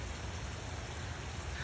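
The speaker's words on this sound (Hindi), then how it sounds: "देखिए कितनी तेज़ बारिश है ना" Heavy rain falls steadily, a soft, even hiss of drops with no voices, faint and continuous throughout.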